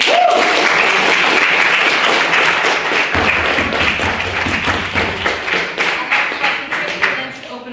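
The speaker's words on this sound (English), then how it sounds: "Can we have a second round of applause for what was a brilliant meeting?" Audience applause after a debate on nuclear energy, a full, loud round that thins into a few sparse, distinct claps toward the end.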